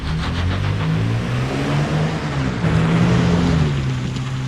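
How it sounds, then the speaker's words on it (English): A 2022 Nissan Frontier Pro-4X pickup truck idles while warming up, a steady low engine rumble with a wavering hum, heard close and continuous with no talking. "Anyway, the truck's starting to warm up."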